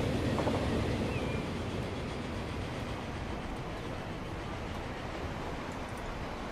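A train pulls into a station in the Transport Fever video game, a dense, steady rolling rumble with faint rail clatter that holds at an even level throughout, with no voices.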